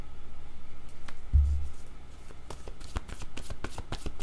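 Playing cards shuffled and drawn at a desk for a tarot-style card reading in French, a dull thump and crisp riffling and flicking taps that quicken toward the end, close and fairly quiet, with no voice.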